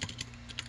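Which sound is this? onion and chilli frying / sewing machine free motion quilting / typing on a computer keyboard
typing on a computer keyboard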